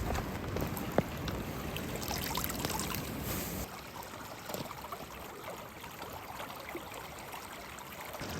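Water streams and trickles steadily through a culvert just cleared of debris after a windstorm and flooding, a continuous close rushing flow that softens slightly partway through.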